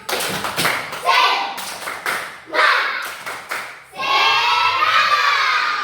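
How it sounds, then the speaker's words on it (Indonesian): Young schoolchildren perform a rhythmic clapping chant in a classroom, bursts of patterned group claps mixed with shouted chanting voices, ending in a loud sustained cheer. "tepuk semangat."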